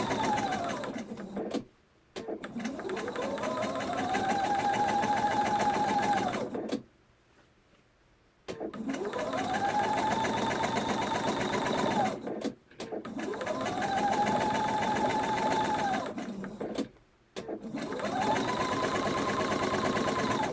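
A sewing machine runs in long steady bursts, each rising to a whirring hum and stopping, with short pauses between runs; close and fairly loud.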